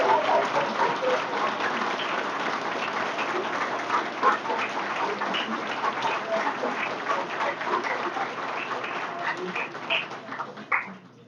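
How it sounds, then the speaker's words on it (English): Luncheon guests at a 2022 Law Day event applaud after a speech, a loud, dense round of clapping from a sizable crowd that holds steady throughout and thins slightly toward the end. "How about another round of applause for our speakers, our award winners, our contest winners, and our committee members"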